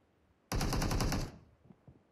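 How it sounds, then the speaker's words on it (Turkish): A short, loud burst of rapid automatic gunfire lasts under a second, followed by quieter faint thuds. "rakibin olduğu yerde silah sesleri net bir şekilde geliyor"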